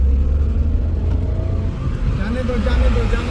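A car engine labours uphill at a bend, a loud, close, continuous low rumble with gear strain rising slightly toward the end, with people talking over it.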